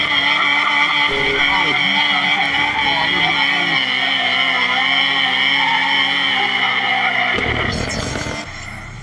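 A powerful car roars close by, its engine droning at a high pitch as its tires skid and squeal in a long, loud slide, with a sharp burst of noise near the end.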